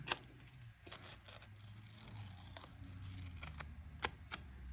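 Scissors snip through paper in a series of quick, crisp cuts, irregularly spaced and close up, with no voices.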